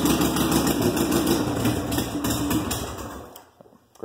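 A motorbike engine, started cold without choke, runs at a steady idle with rapid even putter and mechanical ticking, loud and close, then cuts off abruptly near the end leaving near silence.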